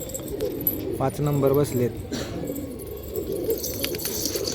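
Tournament racing pigeons in Pandharpur during the rainy season coo softly in the background, faint and intermittent beneath someone talking nearby.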